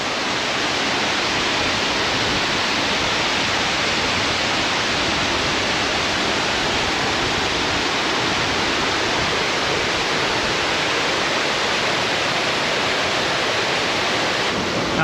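A waterfall at a countryside campsite pours steadily, a loud, dense and unbroken rush of falling water close by with no break or voices throughout.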